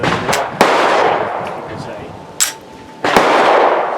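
A CZ P09c 9mm pistol fires a few sharp, loud shots at irregular intervals, each with a short echoing decay, mixed with faint voices in the background.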